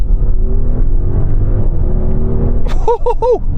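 An Audi RS Q8 performance SUV accelerating hard, its engine note a strong, rising rumble and whir that climbs steadily in pitch, heard from inside the cabin, loud and close, with brief high-pitched chirps near the end.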